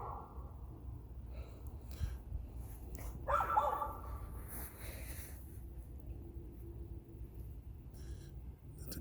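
An American Bully dog moves around a backyard at night, giving one short bark and a few snorts and yips over a low steady background hum, close and fairly quiet.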